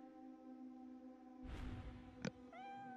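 A cat in the video game 7'Scarlet gives a single short rising meow near the end, clear over steady background game music with a brief whoosh just before.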